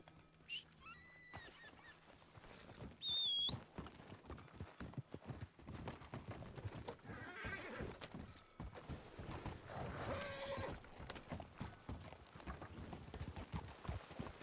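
Video game horse hooves clip-clop steadily at close range, a rhythmic stream of hollow knocks with a short whinny-like call near the start.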